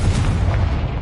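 A Confringo fire spell bursts in Hogwarts Legacy, a loud, dense, booming blast that fills the short moment without letup.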